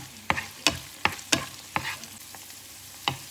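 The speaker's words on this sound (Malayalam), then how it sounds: "ഇഞ്ചിയും പച്ചമുളകും ഒക്കെ നന്നായിട്ട് മൂത്ത് കിട്ടിയിട്ടുണ്ട്" Ginger and green chillies fry in a pan for a Kerala fish molee, with about eight crisp clacks of a spatula stirring against the pan over a soft, steady sizzle, close by and without talk.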